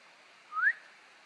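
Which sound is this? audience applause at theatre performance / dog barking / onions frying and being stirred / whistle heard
whistle heard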